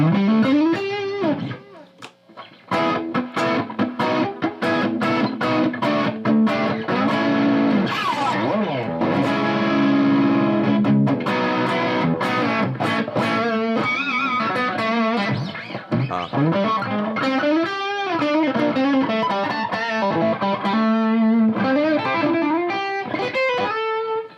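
Crunchy, overdriven electric guitar through a Two-Rock amp's crunch channel plays a busy run of chords and fast single-note lines, loud and close, with no voices.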